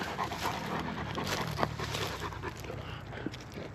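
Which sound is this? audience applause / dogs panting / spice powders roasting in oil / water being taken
dogs panting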